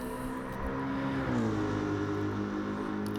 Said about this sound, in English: he's whipping this hot rod around the track